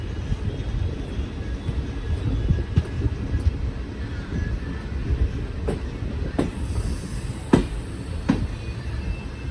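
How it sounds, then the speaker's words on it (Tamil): Madurai-Coimbatore Intercity Express train departing Madurai Junction, heard from on board as a steady rolling rumble with scattered sharp clanks and knocks from the carriages. "நம்ம ட்ரெயின் பார்த்தீங்கன்னா கரெக்டாக ஆன் டைமுக்கு மதுரை ஜங்ஷனில் டிபார்ச்சர் ஆக போகுது"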